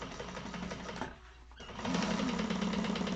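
A sewing machine backstitches over zipper teeth on a satchel, a steady rapid mechanical whir that briefly pauses midway before resuming louder and close, with no talking.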